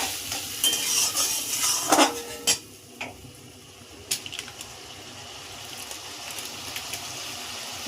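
Spices frying in a pan for a Bengali fish curry with potato, splashed with a little water, crackling and sizzling loudly with spoon stirring and clinks, then settling to a softer steady sizzle.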